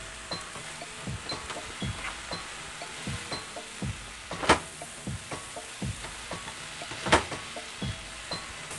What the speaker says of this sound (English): So I stir fry it in addition for another 5 minutes until it's like this.